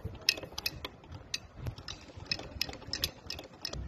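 Sewing machine stitching 3-inch fabric strips onto a trouser hem, a close, busy run of mechanical clatter and ticking pulses with no talk.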